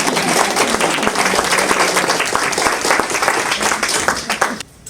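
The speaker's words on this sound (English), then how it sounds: "Please, a round of applause." Loud, dense applause from an audience at a community partners' 25th anniversary breakfast, sustained steadily before cutting off abruptly near the end.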